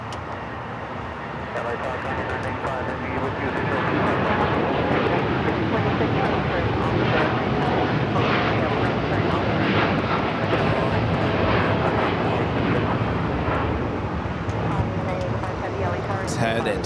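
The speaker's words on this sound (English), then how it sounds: "let's head to the United Dreamliner now taking off" A United Boeing Dreamliner takes off at LAX, its jet engines swelling into a sustained broad roar heard from a distance as the sound builds and holds, with a voice speaking over it.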